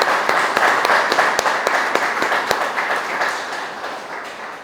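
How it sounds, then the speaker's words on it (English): Outdoor crowd at a Pulaski Day wreath-laying ceremony applauds the organizing committee: a sustained, fairly loud wash of clapping with a few sharp individual claps standing out, gradually tapering toward the end. "So let's give a round of applause for the Pulaski Day Committee."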